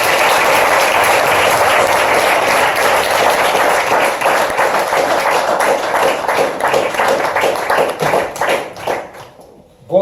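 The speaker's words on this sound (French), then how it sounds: "je vais vous proposer un tonnerre d'applaudissements pour le professeur Tony Buzan" Audience applause for a speaker at a French mind-mapping and reading championship: a sustained burst of crowd clapping that thins into scattered claps and fades out near the end.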